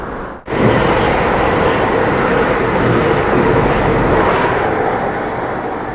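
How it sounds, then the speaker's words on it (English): A train passes on the railway line near the River Tone at Bathpool, a loud sustained rushing roar that swells in abruptly and holds steady, slowly easing toward the end. "that was just perfect timing for the train to go past."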